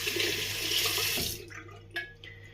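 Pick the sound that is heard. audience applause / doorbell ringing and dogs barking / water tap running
water tap running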